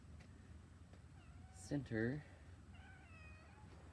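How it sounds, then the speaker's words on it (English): A pet cat lets out a clear, fairly loud two-part meow close by, set against a steady low background hum, with someone speaking briefly just before it. "Yes, that's my cat."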